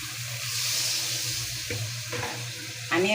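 Spices with turmeric and coriander powder are sautéed in a pan for a curry of fish, stalks and potatoes, giving a steady close sizzle with scraping stirs.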